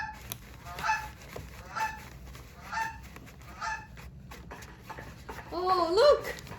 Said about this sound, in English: Maybe we should follow that big goose and see.